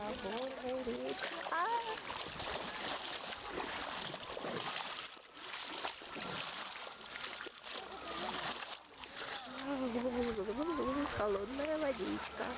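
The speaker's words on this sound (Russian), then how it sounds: "я иду по горной речке" Feet wade through a cold mountain stream near Lake Ritsa in Abkhazia, with steady splashing and sloshing of water close by throughout, and a person speaking at times over it.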